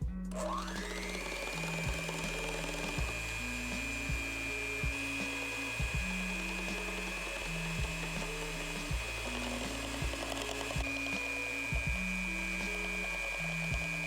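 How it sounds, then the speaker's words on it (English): An electric hand mixer beats sugar into egg yolks for a chocolate cheesecake, giving a steady high whirring whine that holds for the whole stretch, with faint rhythmic knocks from the beaters against the bowl underneath. "Bust out your mixer as we'll be mixing these two together."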